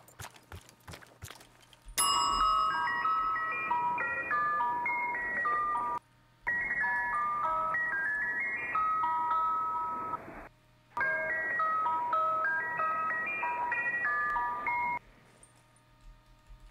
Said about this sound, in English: all of these just dinged the same way